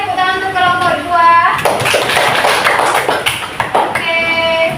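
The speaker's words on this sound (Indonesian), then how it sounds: "Kita berikan tepuk tangan untuk kelompok 2." Schoolchildren in a seventh-grade classroom clap for a group after its presentation, a burst of applause from many hands that swells in the middle and tapers, with children's voices and a teacher talking around it.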